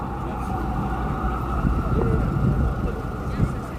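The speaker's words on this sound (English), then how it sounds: "You hear those sirens, you hear those noise." Sirens wail over a noisy street in Times Square, New York City, with traffic rumble and scattered voices mixed into the busy ambient din on a winter day.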